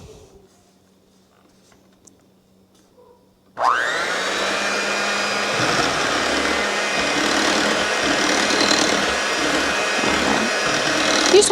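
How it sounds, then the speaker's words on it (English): Electric hand mixer switches on after a few quiet seconds and runs steadily on a low setting, blending pumpkin pie filling of pumpkin, egg, sugar and cinnamon, a loud continuous whir that lasts to the end. "let's get that mixer in here"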